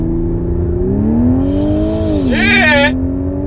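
A supercharged V6 Audi S5 Coupe launches with launch control: a held engine rev climbs, then surges loudly with a whining supercharger and a brief sharp squeal as the car takes off, heard from inside.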